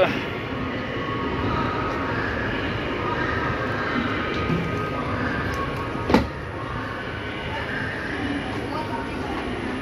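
A train at a railway station gives a steady low rumble and a broad wash of noise, with a single sharp bang partway through and voices talking over it.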